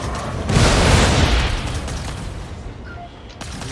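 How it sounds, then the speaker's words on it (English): Missile launch and explosion in a flight video game: a loud, close boom that swells and then rumbles away over a few seconds. "Fire missile."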